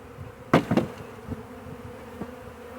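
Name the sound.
honey bee swarm buzzing around a box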